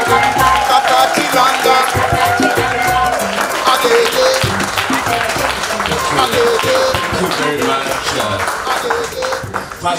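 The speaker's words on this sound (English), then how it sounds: "give the one and only PLO Lumumba a resounding hand of applause as he takes his seat" Loud, resounding applause from a standing audience greeting Prof. PLO Lumumba as he takes his seat at the Africa Expo in Germany, with busy clapping mixed with crowd noise and voices, tapering at the end.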